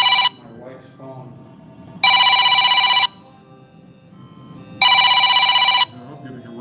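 A telephone rings in three loud, evenly spaced electronic bursts during a video-call meeting, with a low murmur of voices between the rings.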